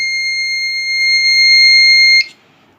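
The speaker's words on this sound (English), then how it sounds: "The buzzer is ringing." A loud, steady electronic buzzer tone from a buzzer in a simple circuit sounds continuously for about two seconds, then cuts off abruptly, leaving near silence.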